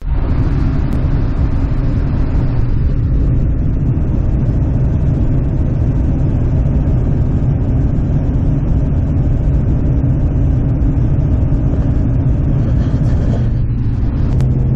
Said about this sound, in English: we're on the highway doing a test drive in the truck